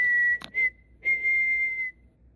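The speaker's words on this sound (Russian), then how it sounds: "ты чё, сука, тут свистишь?" A person whistles a high, clear, steady note in two sustained stretches separated by a short pause, with a few brief noisy clicks in between, fairly quiet and close.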